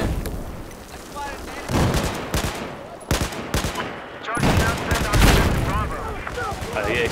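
Battlefield 4 online gameplay: heavy gunfire and booming blasts erupt in rapid, loud bursts, with short gaps between volleys.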